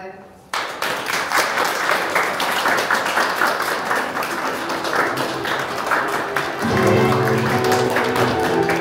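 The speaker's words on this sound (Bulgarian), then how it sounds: "Драги гости и родители, моля за вашите аплодисменти." Wedding guests at a church wedding applauding the arriving newlyweds and their best man and maid of honor; lively, sustained clapping from a crowd that starts abruptly and continues, with music and voices rising underneath toward the end.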